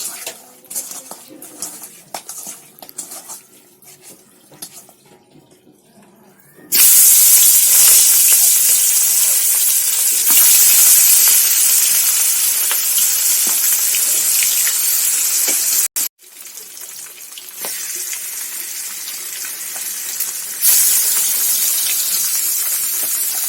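Rohu fish rubbed with salt and turmeric spits and crackles loudly in hot oil in a wok, a steady dense sizzle that starts abruptly and runs on, with a brief dip and soft kitchen clatter.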